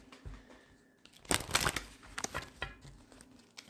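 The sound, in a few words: shuffling tarot cards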